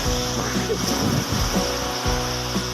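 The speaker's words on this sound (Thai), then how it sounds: "อาจจะไม่ค่อยได้ยินเสียงเท่าไหร่นะครับเพราะว่าคลื่นแรงมากนะครับ" Strong ocean waves at Bang Saen beach in Chonburi, Thailand, roar and wash continuously, heavy with wind buffeting the microphone, loud and close.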